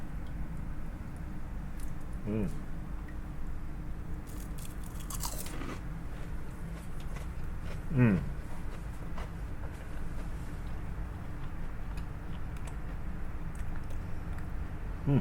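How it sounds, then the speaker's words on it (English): Crisp shiso (oba) leaf tempura being bitten and chewed close up, with a few sharp crunches standing out over a steady low rumble of background noise and no talk. "You can hear the crunching in the oba."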